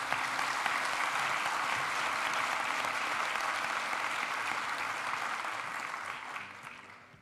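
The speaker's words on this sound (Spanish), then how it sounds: "brindémosles un fuerte aplauso" An audience at a university graduation ceremony gives sustained, even applause from many hands, filling a large hall and gradually tapering off toward the end.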